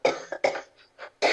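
A person coughs several times in a quick, rough cluster, close and fairly loud.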